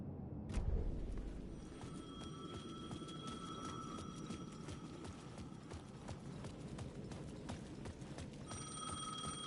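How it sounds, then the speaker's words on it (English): Payphone ringing in the video game Alan Wake 2, a repeated electronic bell tone heard mid-distance over a constant dark ambient bed, with a sharp knock near the start and no talk. "The payphone was ringing again."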